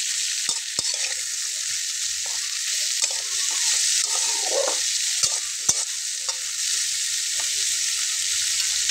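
Bitter gourd frying in a pan with oil, a steady sizzle broken by sharp clicks and scrapes as the slices are turned and stirred, close and continuous with no voices.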